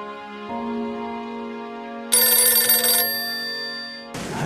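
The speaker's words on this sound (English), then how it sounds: "I got a phone call." A telephone rings with a sustained electronic tone that shifts pitch, then a brighter, louder ringing burst, and ends in a sudden noisy clatter.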